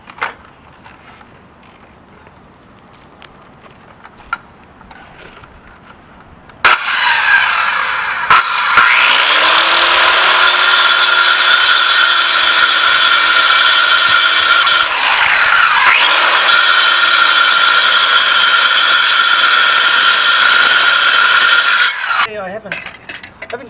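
A power saw whines loudly and steadily as it grinds through a concrete paver for about fifteen seconds, its pitch dipping briefly midway before it cuts off.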